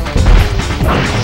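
A shock pistol fired by Carmelita in the video game Sly Cooper, heard as a loud, abrupt crash-like blast with a heavy low-end thump, followed by a second burst, all within about a second.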